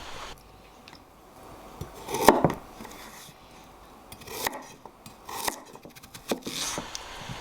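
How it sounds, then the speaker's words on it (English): A knife cuts potatoes and carrots into bite-sized pieces, giving irregular close chops and scraping taps on a cutting board with quiet gaps between strokes. No voices are heard. "Then cut the potatoes and carrot into bite-sized pieces"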